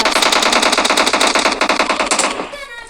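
Rapid automatic gunfire in a shooter video game, a loud close burst of evenly spaced shots that rattles for over two seconds before fading.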